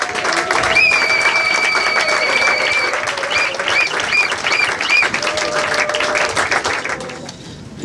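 A church congregation at an ordination service applauds and cheers loudly, with sustained clapping and shouts of acclamation throughout, some whistles or high cries rising above, before fading at the end.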